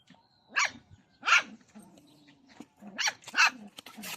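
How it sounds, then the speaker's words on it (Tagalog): A dog barks in four sharp, loud bursts, two close pairs separated by a short pause, with faint background noise between them. "Dami pong aso rito oh."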